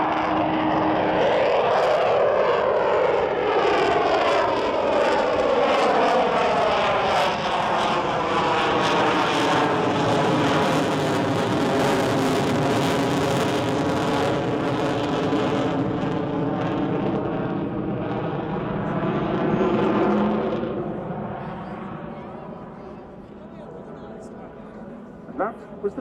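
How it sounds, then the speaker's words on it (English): An Avro Vulcan XH558 bomber with four Rolls-Royce Bristol Olympus engines roars past at an airshow, a huge sweeping jet rumble with a shifting whine that swells, lingers, then fades into the distance. "That was the sound of 4 Rolls-Royce Bristol Olympus engines with"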